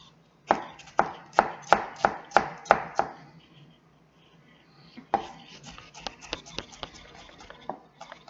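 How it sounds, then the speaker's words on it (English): A knife chops food on a cutting board while cooking French dishes, first in a quick series of sharp, evenly spaced close knocks, then a pause and a looser, quieter run of taps and scrapes. "No substitute for chopping"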